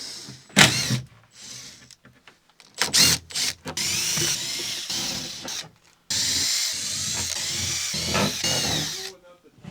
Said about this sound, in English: I'll start pulling screws. Some hefty screws.